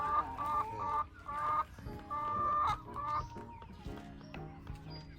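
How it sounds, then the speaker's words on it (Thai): Several chickens cluck and chatter close by, overlapping calls in a busy, continuous farmyard chorus with no talking. "โอ้ฝูงไก่ออกมาเต็มเลย"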